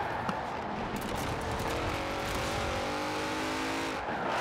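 A Mercedes-AMG GT 63 S 4-door with 4MATIC+ in Forza Horizon 4 revs and accelerates, its engine note climbing steadily, with tyre noise and a brief drop near the end, no talk.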